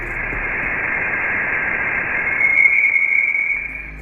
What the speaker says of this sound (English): the real-life, raw, untouched sound of plasma waves as recorded by Voyager 2 during the flyby of Neptune